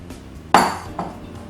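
Vermicelli and salad are stirred in a bowl, producing one clear clink and scrape of utensil against the dish, followed by a softer second knock, close and brief.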